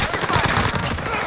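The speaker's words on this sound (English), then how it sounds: "Who's shooting them guys?" Gunfire in the video game Warzone: a continuous, loud burst of rapid automatic shots, dense and close, filling the whole short moment.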